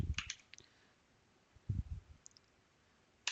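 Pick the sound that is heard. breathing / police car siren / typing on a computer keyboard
typing on a computer keyboard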